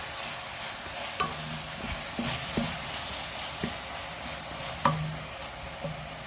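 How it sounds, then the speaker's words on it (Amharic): About half a kilo of meat fries with red onion and five cloves of garlic in oil. A spoon stirs and scrapes against the pan now and then over a steady, close sizzle. "እዚህ ጋር አንድ ራስ ቀይ ሽንኩርትና 5 ፍሬ ነጭ ሽንኩርት የሚያክል ከተፈለ አብሬ ጥብስ አደርገዋለሁ።"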